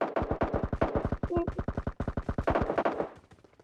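Rapid automatic gunfire from a PUBG firefight rattles out in fast, evenly spaced bursts that continue almost without a break, loud and close, with a brief pause midway.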